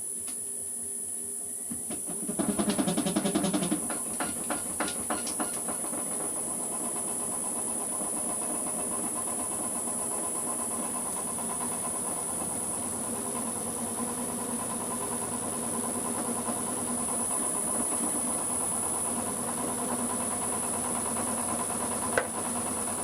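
A wood lathe spins a live edge bowl blank with a steady motor hum and high whine; a short burst of chattering cuts comes early on, then a long even drone.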